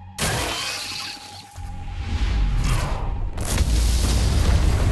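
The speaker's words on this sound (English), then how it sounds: "Looks like fireworks are going off in the ant tunnels." Heavy explosions rumble and crack through ant tunnels in the Solo Leveling: Arise action game. Loud, dense bursts run almost continuously, with a brief dip before a fresh surge of blasts.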